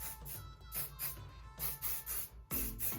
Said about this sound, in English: We're going to go ahead and shake it up and spray it all over your hair.